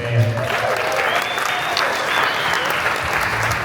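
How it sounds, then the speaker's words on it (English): Wedding reception guests applaud the man of honor and best man, a steady, loud wash of clapping under a low hum of voices and a brief musical tone. "a little round of applause for our man of honor and our best man"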